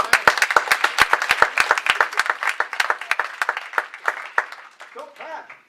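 Church congregation at a Sunday evening street service claps in loose, sharp individual hits that start strong and thin out over a few seconds, ending with a voice briefly speaking.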